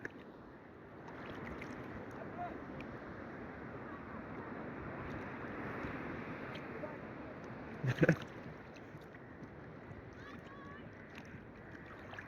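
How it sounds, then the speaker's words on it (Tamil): Steady rushing wind and sea waves at Trincomalee, Sri Lanka, a continuous broad wash with a brief bump of handling noise partway through, no talking. "ஸோ இப்போ நல்லா காற்றடிக்கிறதுனால கொஞ்சம் வேவ்ஸ் கொஞ்சம் பெருசாக வந்துக்கிட்டு இருக்கு"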